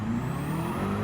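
Race car in Gran Turismo 7 launching from a standing start with wheel spin, a loud sustained engine drone with tonal whine rising steadily in pitch over about a second.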